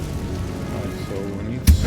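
A Confringo blasting spell from Hogwarts Legacy on PS5 lands as one sudden, sharp burst near the end, following a stretch of low, steady game ambience.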